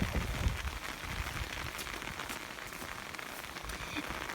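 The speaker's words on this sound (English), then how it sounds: "it's starting to rain pretty hard." Hard rain pours steadily outdoors as a dense, even hiss with scattered heavier drops, with no voices over it.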